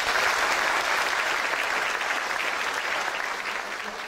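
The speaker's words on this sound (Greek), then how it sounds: "Είναι λοιπόν άξιοι για ένα θερμό χειροκρότημα." Warm audience applause at a Greek community association's 80th anniversary celebration, a dense, steady clapping from a full room that holds for several seconds and eases slightly at the end.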